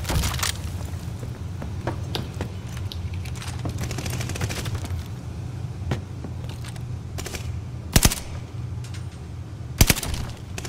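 Sustained automatic gunfire from Call of Duty Vanguard multiplayer rattles almost continuously, with heavier booming shots and a few sharp bursts standing out near the end.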